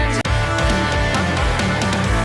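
A dense, loud passage from a song during a fill, with a reedy, wavering, oboe-like pitch effect over full band instrumentation and steady percussion hits, lasting about two seconds.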